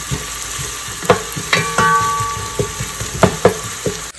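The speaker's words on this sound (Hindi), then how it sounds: "प्याज थोड़े से फ्राई करूंगी" Chopped onions fry steadily in a pan, a close, continuous sizzle with scattered crackles and pops and a few clinks of stirring.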